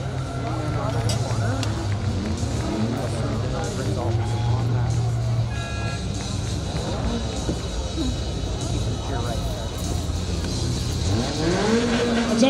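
Race cars roar around the track at Saratoga Speedway, engines droning and revving continuously as cars pass close, with tire squeals mixed in and a commentator talking over the racing.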